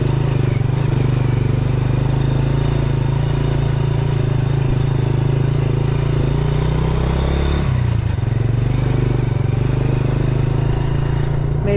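A motorcycle engine drones steadily at close range while riding a rough road between Montalban and Boso Boso, Antipolo, Rizal. The low, continuous rumble dips briefly partway through, then carries on.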